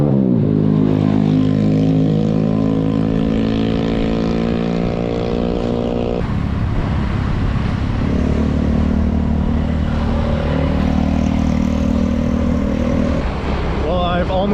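A vehicle drives slowly through crowded, bustling market streets in West Sumatra, its engine droning steadily and loudly throughout, with harmonic tones shifting as it crawls along.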